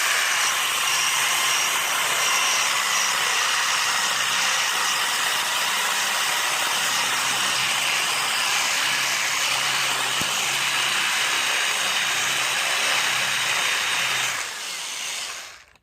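Steady, loud whirring drone of a power drill boring through metal with a drill bit while working on a 2.4 swap Neon, running continuously for about fourteen seconds before tailing off near the end.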